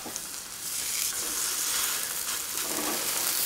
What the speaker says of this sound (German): und dann braten wir die von beiden Seiten erstmal richtig schön an